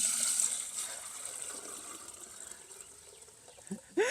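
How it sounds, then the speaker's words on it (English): Steady rushing of water pouring into a watering can, soft and continuous, with faint outdoor background and a brief sharp sound at the end. "I fill my can"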